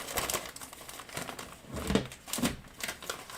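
Pink craft paper being rummaged through and shuffled, with several bursts of close crinkling and rustling over a few seconds and no talk.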